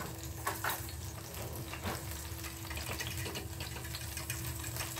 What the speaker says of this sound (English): then we're going to mix everything up together.